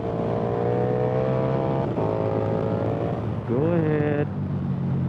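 A KTM 1290 Super Duke GT motorcycle engine droning loud and steady while riding, with a shift and a rising rev near the end, a voice briefly speaking over the engine.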